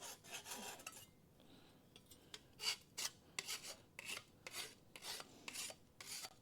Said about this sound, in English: we'll just get rid of the burrs